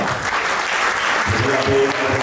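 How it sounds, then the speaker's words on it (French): Guests at a customary wedding clap loudly and continuously, with voices rising under the applause in its second half. "On va applaudir très très fort"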